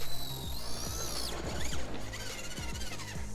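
An Axial AX10 RC crawler running on a 3S LiPo battery gives a steady, close whine of small motor and gears with ratcheting mechanical clicks and a rising high-pitched tone that drops off partway through.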